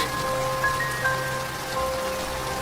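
Heavy rain falls in a steady, close hiss of drops, with faint sustained tones sounding softly beneath it.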